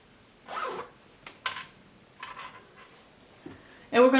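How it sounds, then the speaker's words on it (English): An invisible zipper is pulled closed on fabric in short, quick zips and rasps, with soft handling noises between them and a louder zip at the end. "I'm going to close my zipper."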